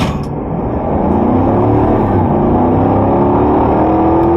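A 2023 Chevrolet Silverado ZR2 pickup accelerates hard, its engine note climbing steadily and loudly for several seconds with a deep, continuous rumble and no talking.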